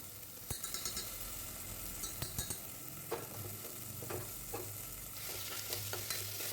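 Washed chana dal (split chickpea lentils) frying in hot ghee inside a cooker pot, a steady close sizzle broken by repeated clinks and scrapes of a spoon stirring, with no talking.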